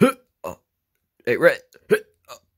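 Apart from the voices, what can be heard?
cartoon bird hiccup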